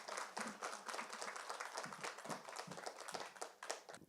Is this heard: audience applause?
yes